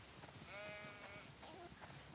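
Many sheep bleat in a flock in The Last of Us, their wavering calls overlapping at moderate volume over a steady farmyard background, with no talking.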